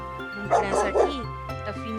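A dog barks and yips a few times in quick succession, with a whimpering, tonal quality and background music underneath.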